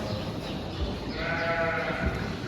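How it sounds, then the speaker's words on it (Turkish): Four-month-old female Karacabey Merino lambs bleat on a farm, one drawn-out wavering bleat rising in the middle of a busy background of animal shuffling and noise. "Dişi kuzularımızı görüyorsunuz şu anda."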